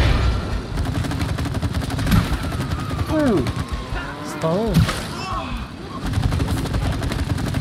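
Rapid video game gunfire from It Takes Two, repeated shots crackling under steady game music and sound effects while players talk over it.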